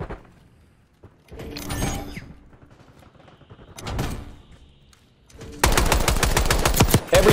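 Call of Duty Black Ops 6 gameplay: a couple of mechanical sliding, whooshing sounds give way to a loud, rapid automatic gunfire burst near the end, up close and dominant.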